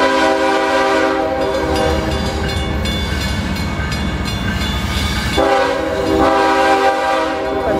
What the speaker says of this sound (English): A very slow moving train here in Harvey,